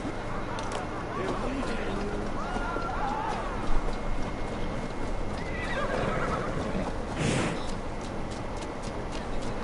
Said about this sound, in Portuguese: moleque com medo do cavalo